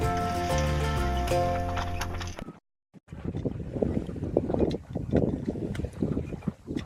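Wind buffets a phone microphone aboard a sailboat on Lake Michigan, with splashing water and creaking under a rough, gusty roar, briefly cut to silence midway.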